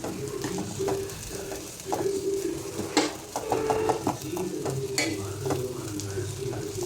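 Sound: cluster beans frying and being stirred in a pan

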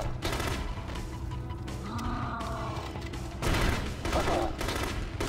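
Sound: charge shot weapon firing in video game The Conduit

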